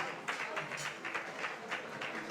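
Guests at a wedding reception clapping for a comedian taking the stage; a soft, steady patter of many hands, fairly distant and moderately quiet throughout.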